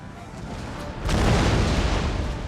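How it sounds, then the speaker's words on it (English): Artillery bombardment in the Napoleonic-era battle game Total War: Napoleon, a low rumbling roll of cannon fire that swells midway into a dense, sustained booming wash, loud and continuous with no talking. "the bombardment has begun"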